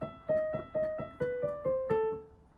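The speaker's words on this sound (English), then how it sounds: "So it sounds like this without the pedal" Soft piano notes from Für Elise played without the sustain pedal, one after another in a steady rhythm, each note cut short and dry.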